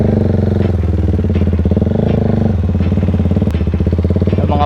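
A Husqvarna Vitpilen 401 single-cylinder motorcycle fitted with an Italian-made Termignoni exhaust canister idles close by, with a loud, steady, rhythmic throb and light mechanical clatter.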